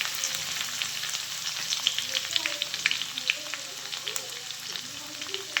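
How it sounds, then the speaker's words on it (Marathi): Hot oil sizzles and crackles steadily close by, with scattered sharp pops from spices spattering in the pan throughout, tempering for a bitter gourd dish. "आता मी कारल्याच्या भाजीला फोडणी देते"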